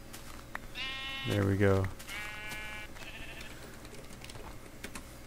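A Minecraft sheep gives a single loud, wavering bleat up close, followed by fainter tonal game sounds, while someone talks casually over the scene.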